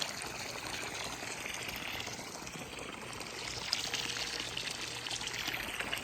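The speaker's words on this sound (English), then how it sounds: "filling it up with the garden hose now" Water from a garden hose pours steadily into a swimming pool being filled, a continuous close splashing gush with a soft trickle, unbroken throughout.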